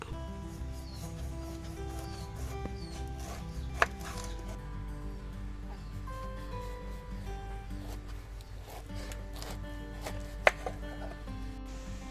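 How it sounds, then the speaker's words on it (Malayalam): A knife chops fresh tender jackfruit into small pieces on a board for a masala curry, giving sparse, scattered cutting knocks at close range, with two sharper impacts standing out over a steady low background hum. "അപ്പോൾ നമുക്കിതൊന്ന് കട്ട് ചെയ്തെടുക്കാം"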